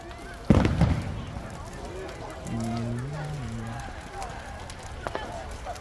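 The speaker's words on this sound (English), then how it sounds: "Very dangerous going near fireworks because they can just get out of control." Bonfire Night fireworks go off outdoors: one sharp, loud bang with a fading crackle, then people talking and a couple of faint pops.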